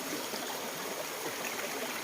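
A river stream flows steadily at the spot where laundry is washed, a continuous broadband rush and trickle of water heard close by and alone, with no voices.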